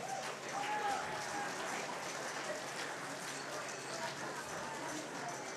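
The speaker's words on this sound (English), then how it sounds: "Give a round of applause." Audience applause at a powerlifting nationals platform session, a steady moderate crowd wash of clapping heard from some distance, with speech mixed in.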